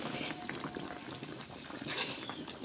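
A pot of water boils steadily on the stove while beshbarmoq is made, a continuous bubbling hiss with soft patter, close and fairly even throughout with no talk.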